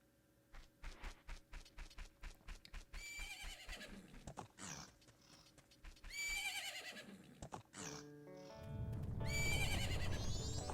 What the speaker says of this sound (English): Isn't that your horse?